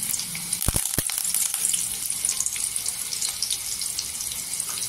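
Curry leaves, crushed garlic and mustard seeds sizzle and crackle in hot oil for a drumstick masala curry, a steady close frying hiss with a few sharp pops near the start and no talking.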